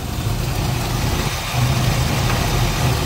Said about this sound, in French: Ça c'est un moteur.